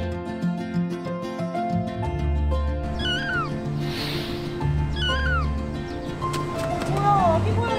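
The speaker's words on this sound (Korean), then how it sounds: "뭐야, 아기 고양이잖아." A small kitten mews repeatedly in thin, rising cries over a bed of background music, the meows near and clear, coming in short clusters.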